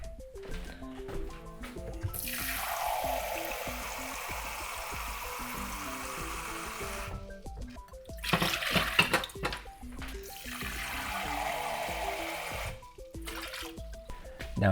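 Water pours and trickles steadily into a pot of rice for Mexican rice in two long stretches, with a brief clattering pause between them; fairly quiet and close.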